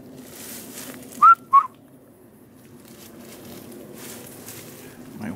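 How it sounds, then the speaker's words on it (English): Two short, faint whistle blows outdoors on an evening hike, thin and weak-sounding, followed by quiet ambient air. "My whistle didn't whistle very good."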